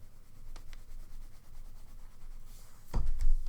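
A purple marker colours on paper in soft, faint scratchy strokes, quiet and intermittent, ending in a louder rubbing scuff near the end.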